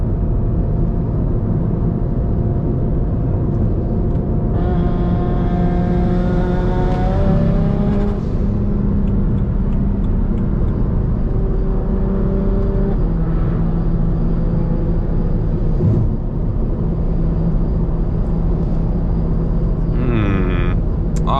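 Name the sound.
car engine hitting boost cut at 29 PSI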